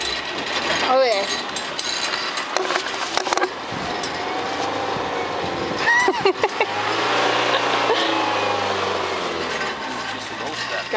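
A car revving and racing toward a jump, its engine rising and falling with mechanical clatter and rattling, while excited voices talk and shout over it throughout.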